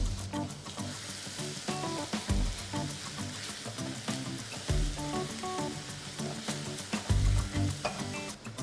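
Crushed mustard seed paste sizzles in hot oil for a mango curry, a steady, dense hiss that continues throughout under a layer of background music.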